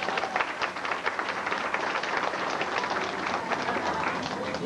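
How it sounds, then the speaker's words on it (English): An audience applauding at a show in Ripley's Aquarium in Gatlinburg, Tennessee, a dense, steady wash of clapping from many hands filling the room and carrying on at an even level, with some talk mixed in. "if we can all give him a nice round of applause"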